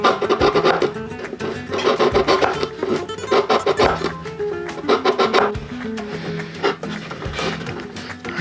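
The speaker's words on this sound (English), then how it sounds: "When you're taking a sanding stick into a corner like this, you want to start in the corner" Repeated rasping strokes of a sanding stick rubbing into the corner of a violin F-hole, close and rhythmic, in quick back-and-forth bursts with brief pauses.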